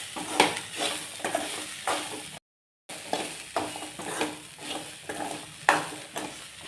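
Grated fresh coconut and coriander leaves are stirred into a snack mixture, with repeated scraping and tossing strokes in a pan at a steady rhythm, close and moderately loud, broken by a short silent gap.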